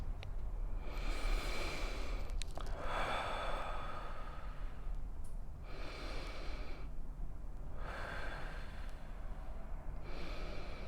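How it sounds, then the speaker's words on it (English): Slow, steady breathing in and out during a guided relaxation moment, with long airy inhale and exhale swells repeating about every two to three seconds, close and soft, with no talking. "feel free to breathe in and out with me."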